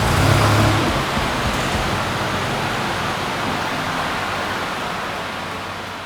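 A 1997 Pontiac Grand Prix on a test drive after new struts and strut mounts, giving a steady broadband road and engine roar that stays loud and even throughout, with no talking.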